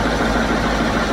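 A Kirovets K-744 tractor with a 7511 engine, freshly started after about two months standing, idles with a loud, steady, dense rumble and no other sounds.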